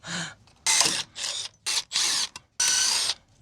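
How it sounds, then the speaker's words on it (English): A power drill whirs in several short, loud bursts separated by brief pauses, close by, as it drills out a metal rivet on a boat trailer hub. "gotta drill it out again"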